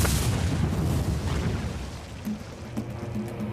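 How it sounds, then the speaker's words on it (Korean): A gamma-ray burst explosion sound effect swells as a deep, heavy boom and then settles into a sustained low rumble that slowly fades, with no talking. "이것이 감마선 폭발이다."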